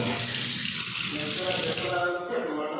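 Water pours steadily from a kitchen tap, a close, even rushing hiss that cuts off sharply near the end.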